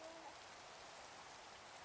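Soft, steady hiss of rain falling in the Minecraft video game, very faint and continuous across the short clip with no talk.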